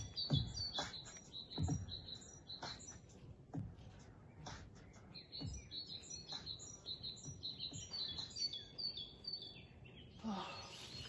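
Birds chirp and tweet in bright, busy bursts, several overlapping calls close by with scattered rustling and a few soft knocks underneath.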